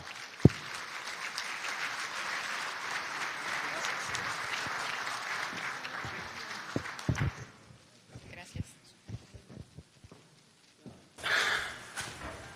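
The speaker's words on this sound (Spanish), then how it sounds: "vamos a recibirle con un fuerte aplauso al señor Udo Schmellenkamp" Applause from an audience at a metro safety and coordination event greets a visiting German firefighter, a steady broad wash of clapping for about seven seconds that fades out, followed by scattered sounds and a brief burst of noise near the end.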